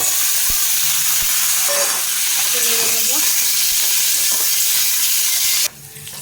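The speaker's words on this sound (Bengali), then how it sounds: "কাঁচা লঙ্কাটাও দিয়ে দিচ্ছি এই একসাথেই ভাজা হয়ে যাবে" Green chillies and boiled flat beans fry in a pan with a loud, continuous hissing sizzle close up. A few faint tones sit in the background, and the sound shifts abruptly near the end.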